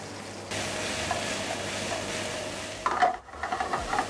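Sliced zucchini fry in a pan alongside shrimp, a constant crackling sizzle that grows after the vegetables go in, with a brief clatter of stirring near the end.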